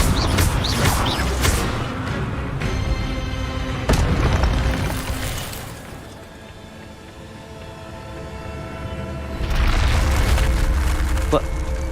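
Booming fire-spell blasts from Incendio in the game Hogwarts Legacy, heavy bursts with a rumbling tail, louder at the start and again near the end, with a voice talking over the game sound.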